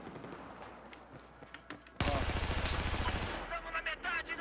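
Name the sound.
gunfire in Battlefield 4 (video game)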